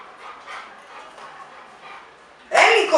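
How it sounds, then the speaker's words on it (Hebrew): A female dog whimpers and yips softly, then breaks into a sudden loud burst of close barking near the end, with faint household sounds beneath. "היא הכלבה"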